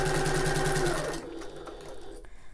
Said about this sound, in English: just do a few back stitches here, increase my stitch length all the way up